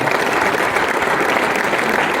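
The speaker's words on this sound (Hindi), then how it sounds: "इनके लिए एक जोरदार तालियां करूंगा" Sustained, loud applause from an audience at an RCM success celebration, a steady dense wash of clapping lasting throughout with no break.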